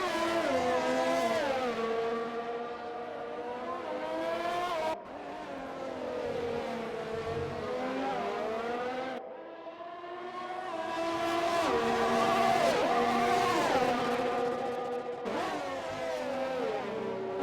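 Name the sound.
race cars driving in a sim racing video game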